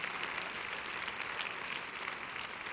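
A church congregation claps in a steady, continuous round of applause, fairly quiet and evenly spread with no clear talking.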